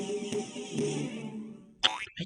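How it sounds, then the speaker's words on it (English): A cartoonish Liberty Bell cracking sound effect from the trivia video game You Don't Know Jack: a quiet, wobbly boing-like tone that rings and fades, then a brief sharp clang near the end. "That sound you heard was the Liberty Bell cracking in Philadelphia."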